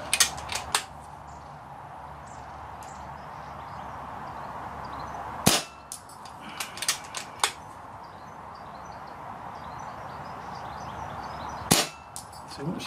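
Kral Puncher Pro 500 air rifle firing at targets from 40 to 90 yards, a few sharp cracks with metallic pings spaced several seconds apart over a quiet outdoor background.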